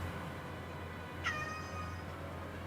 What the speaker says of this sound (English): You meowing super big.